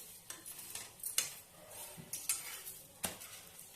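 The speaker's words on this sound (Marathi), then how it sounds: "दुसऱ्या बाजूनं पण पलटून घेऊन त्याला तेल किंवा तूप लावून शेकून घ्यायचं" A methi and spring onion paratha roasts in oil on a pan, giving a faint, soft sizzle broken by a few sharp clinks and scrapes of a spatula against the pan.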